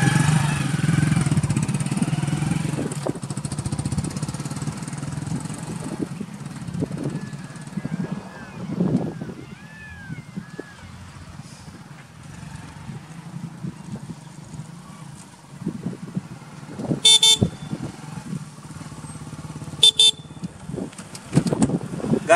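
A Hero Splendor motorcycle engine runs steadily at close range during a mileage test on 100 ml of petrol, a low throbbing drone with brief sharp bursts near the end and voices at times over it.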